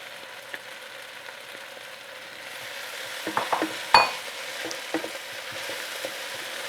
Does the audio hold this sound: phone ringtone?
no